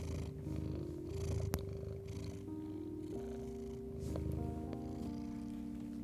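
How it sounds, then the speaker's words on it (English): A contented cat purrs loudly and continuously at close range, a steady rumbling drone with no talking over it. "she is purring like obscenely loud"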